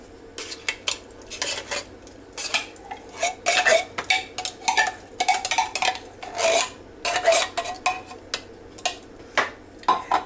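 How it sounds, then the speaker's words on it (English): Condensed mushroom soup is scraped from a can into a bowl for green bean casserole: repeated close, rasping metal scrapes and spoon clinks in uneven bursts, with no talking. "we're going to put the mushroom soup"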